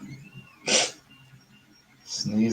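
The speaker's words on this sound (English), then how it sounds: "Sneezing on saber demos again." A single sharp sneeze bursts out loudly near the start at a lightsaber workbench, set among soft room noise, with a voice and a breathy sound following toward the end.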